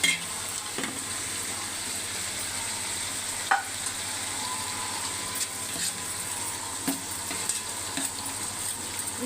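Mint and coriander frying in a pan and being stirred, a steady close sizzle with occasional scrapes of the spoon against the pan, no talk.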